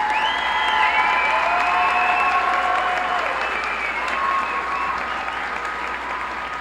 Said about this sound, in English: Let's give our Associate of Applied Arts students a round of applause,